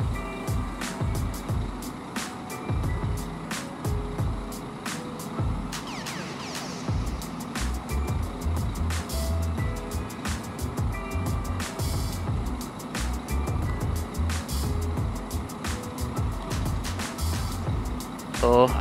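Scania bus of PO Sempati Star rolling into a terminal, a steady low engine rumble with passing traffic and intermittent beeping, voices talking over it throughout.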